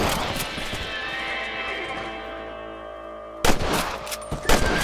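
Rifle shots fired at rabbits in the Western video game Red Dead Redemption: a few sharp, loud cracks late in the clip, cutting in over a steady bed of ambient game sound.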